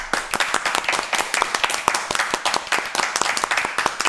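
Scattered clapping from a small group during a live stream, quiet and uneven, with individual claps standing out in an irregular rhythm throughout.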